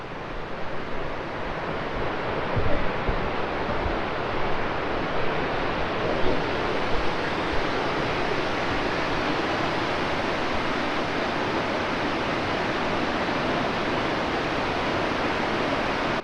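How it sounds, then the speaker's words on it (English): Beaver Brook Falls in northern New Hampshire, swollen after heavy rain, roars with a dense, constant broadband rush of falling water, loud and unbroken throughout with faint wind buffeting the microphone. "I wanted to make a quick stop over at Beaver Brook Falls"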